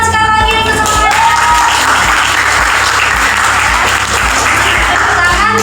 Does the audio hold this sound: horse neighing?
no